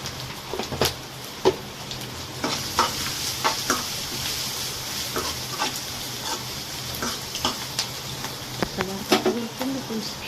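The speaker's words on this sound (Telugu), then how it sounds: "పచ్చివాసన పోయేంత వరకు అల్లం వెల్లుల్లి పేస్ట్ని అయితే మనం ఫ్రై చేసేసుకోవాలి." Ginger garlic paste and turmeric frying in a pan, a steady faint sizzle with scattered clicks and scrapes of stirring throughout.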